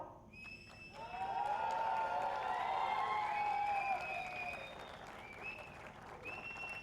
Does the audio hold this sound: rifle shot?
no